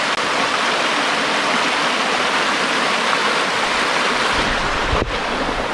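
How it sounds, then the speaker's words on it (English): A Great Smoky Mountains creek with a small cascade along the Alum Cave Trail, rushing loudly and continuously with a dense, steady roar of flowing water, close by and uninterrupted, with a small bump near the end. "There are so many places to stop and look at this creek."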